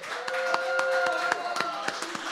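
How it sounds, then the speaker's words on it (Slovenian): A small audience claps for Petra, the female singer of a folk ensemble on a TV show, with a few distinct claps at an uneven pace over a sustained musical tone. "En aplavz za simpatično Petro."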